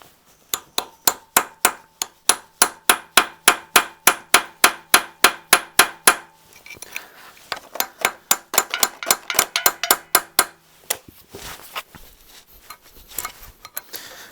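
A hammer strikes a chisel on a 1968 Buick Regal during a rebuild, a long run of sharp, evenly spaced metallic blows close up, pausing briefly, then resuming in faster bursts before slowing into scattered hits.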